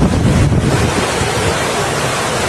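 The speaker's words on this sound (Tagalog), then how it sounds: "Ang lakas ng agos." Strong floodwater current of the Francisco River in Aurora during Super Typhoon Uwan, a loud continuous rushing roar of water mixed with heavy wind buffeting the microphone, steady and close throughout with no talking.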